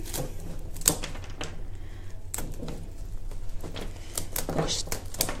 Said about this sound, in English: So cut the stems